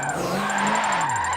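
Tires of a 1994 Nissan Silvia K's drift build skidding in Forza Motorsport 7, a continuous squeal with a wavering engine drone beneath it, close and steady for the whole moment.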